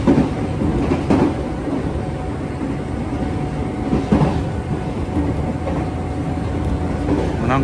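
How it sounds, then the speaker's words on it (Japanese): A steady, loud rumble of a Nankai Railway train rolling by a station beside a rail depot, with periodic clanks from the wheels on the rails and no talking. "列車今枕崎を通過してます"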